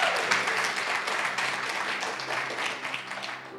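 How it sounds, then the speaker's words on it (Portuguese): A church congregation claps together in a dense, loud burst of applause that fades slightly toward the end, with no talking over it. "Aleluia, aplauda o Senhor."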